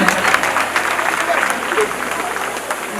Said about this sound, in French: Est-ce qu'on peut s'applaudir?